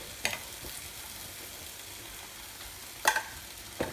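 Onions sizzle softly in a hot pan while cooking salna, with a few sharp clinks and scrapes of a spoon stirring them.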